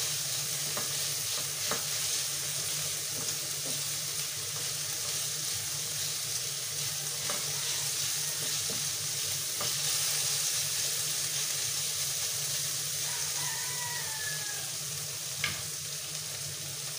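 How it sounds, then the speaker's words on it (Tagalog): Tomatoes for squid adobo being stirred and crushed in a sautéing pan, a steady sizzling hiss with scattered scraping and knocking strokes of the spoon throughout, close and fairly loud. "Haluin lang po natin yung kamatis, kailangan natin durugin."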